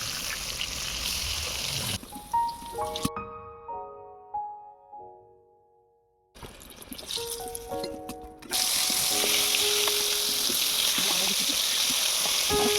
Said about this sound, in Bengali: সরিষার তেল বেগুনগুলোকে ভেজে নেবে